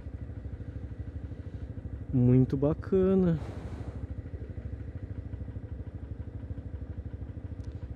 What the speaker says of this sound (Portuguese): olha o que aconteceu nessa Twister, ela está com o seu escapamento operado